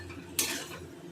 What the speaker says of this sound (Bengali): তারপর আস্তে আস্তে মশলাগুলোকে তরকার সাথে মাখাতে থাকবো